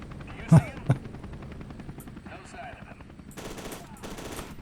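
Gunfire in the FEAR 2 video game rings out as two sharp loud shots at the start, followed by quieter bursts of rapid automatic fire and a low background hum.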